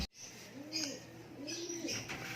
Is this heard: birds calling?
yes